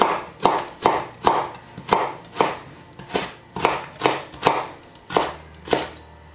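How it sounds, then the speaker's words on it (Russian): A knife chops carrot into thin julienne strips on a cutting board, about fifteen crisp, evenly spaced strokes in a steady rhythm, close up and alone. "Нарезаем тонкими пластинами все. Потом выкладываем пластинки одна на другой такими небольшими башенками. И нарезаем все соломкой."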